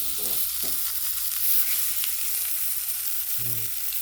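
A steak sears in a smoking-hot pan, giving a loud, continuous crackling sizzle that stays dense and even from start to finish.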